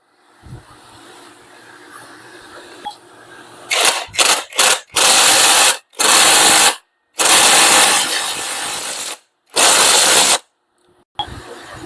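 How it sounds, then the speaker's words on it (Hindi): A ratchet tightens the 12 mm bolt on the camshaft of a Bajaj Pulsar RS200/NS200 engine during reassembly: a few faint clicks, then loud bursts of ratcheting in several separate strokes with short pauses between them, close up and without talk. "12 नंबर के जो बोल्ट को है हमको केमशाफ्ट में टाइट कर लेना है।"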